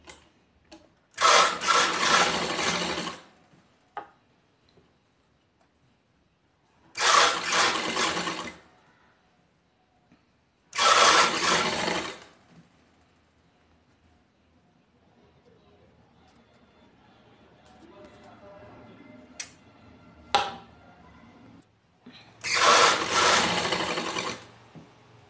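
A sewing machine stitching piping onto the neckline of a nightie runs in four loud bursts of rapid stitching, each a couple of seconds long, separated by quiet pauses with soft handling of fabric.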